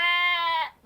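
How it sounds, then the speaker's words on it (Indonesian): A large sheep gives a single loud, close bleat, a clear wavering cry just under a second long that fades quickly at the end. "Ini domba besar ini si Jumbo gitu."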